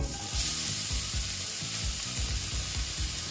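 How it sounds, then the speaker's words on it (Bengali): Carrots frying with cumin in a hot pan give a loud, dense sizzle, with rhythmic scraping strokes of the spatula repeating about every half second. "এই যে দেখো এই গাজরগুলোকে আমি ভেজে নেব"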